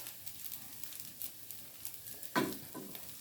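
Cooked bacon is added to egg fried rice in a pan, giving a soft, low sizzle with light stirring, and one brief, louder clatter partway through.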